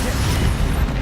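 An Incendio fire spell cast in Hogwarts Legacy, a loud, dense whooshing blast of flame that roars steadily for about a second.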